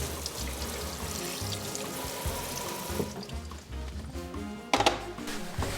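Pork bones, already blanched, are rinsed under a running kitchen tap into a sink, a steady splashing water stream with a brief louder gush near the end.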